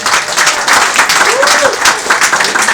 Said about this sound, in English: Give her a round of applause for Hazel.